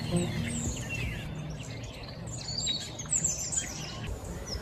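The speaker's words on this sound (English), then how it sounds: "There is still birdsong, like these starlings in the suburbs." Starlings chirp, whistle and chatter in a suburban setting, a steady, busy stream of varied high calls at moderate distance over constant low background rumble.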